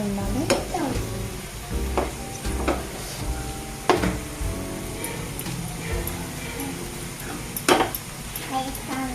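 French fries frying in hot oil while being turned, a continuous bubbling sizzle punctuated by several distinct clinks and scrapes of a utensil against the pan.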